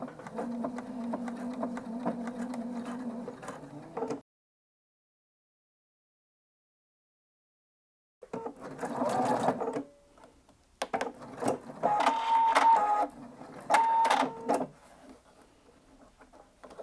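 A sewing machine stitches binding fabric down along a quilt edge, running in steady bursts: a short run, a long pause of silence, then several close stop-start passes with whirring motor and rapid needle ticking.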